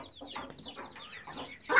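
A hen, a first-time mother, clucks in a soft, close series of short calls that rises at the very end.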